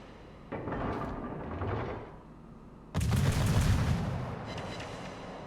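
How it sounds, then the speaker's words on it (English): Incoming Furutaka and Fuso shells in a naval warship battle game, a muffled artillery rumble followed by a loud, close burst of impacts and crashing, then lingering rumble. "Furitaka shells, Fuso shells inbound."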